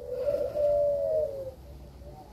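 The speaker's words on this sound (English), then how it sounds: "These birds are annoying sometimes." Pigeons or doves cooing outdoors, one clear drawn-out coo standing out near the middle over a low background hum, with a faint second call trailing off toward the end.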